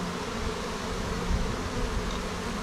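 Honey bees buzz steadily around open hive frames, a dense continuous hum close by with no talk over it.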